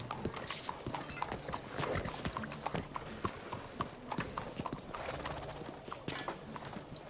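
Horse hooves in Red Dead Redemption 2 clip-clop in a quick, uneven rhythm, close and busy, with clattering mechanical sounds mixed in.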